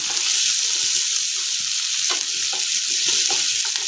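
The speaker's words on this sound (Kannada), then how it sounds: "ಇವಾಗ ಈರುಳ್ಳಿ ಹಾಕೋಣ ಒಂದು ಗೆಡ್ಡೆ ಈರುಳ್ಳಿ ಸ್ವಲ್ಪ ಒಂದು ಐವತ್ತು ಪರ್ಸೆಂಟ್ ಬಾಡಿಸ್ಕೋಬೇಕಷ್ಟೇ" Chopped onion sizzling in a hot pan for tomato rice, a loud, even hiss with light stirring scrapes running through, close by and free of talk.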